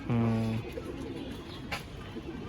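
A giribaz pigeon in a loft gives a short, low, throaty coo close by, then quiet background with faint rustling.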